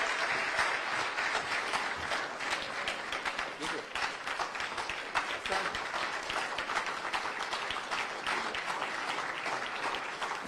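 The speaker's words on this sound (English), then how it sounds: "A round of applause." Sustained crowd applause following a speech by former Kenyan president Uhuru Kenyatta, dense clapping filling the hall at an even level throughout, with some voices mixed in underneath.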